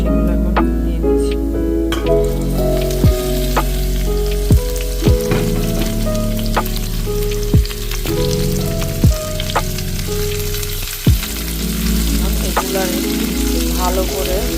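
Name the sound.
chopped vegetables frying in a pan for chicken chow mein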